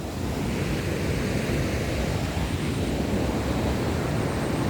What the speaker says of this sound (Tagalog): mataas ang tubig sa overflow yan